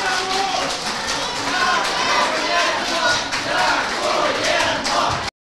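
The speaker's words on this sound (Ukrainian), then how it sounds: "Крики «Ганьба» у залі одразу змінили вигуки «Дякуємо»." Transport carriers chant thanks together in a council hall, a dense, loud crowd of raised voices shouting steadily for about five seconds before cutting off abruptly.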